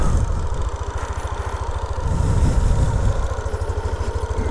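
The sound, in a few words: Yamaha NMAX V2.1 motorcycle engine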